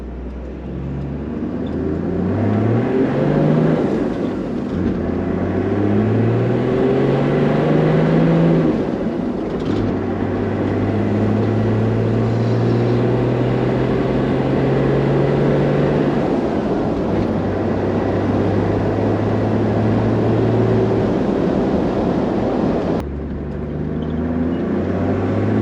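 A four-wheel-drive vehicle's engine runs steadily nearby, its drone rising and falling as the revs climb and settle in several long swells, loud and continuous with no talking over it.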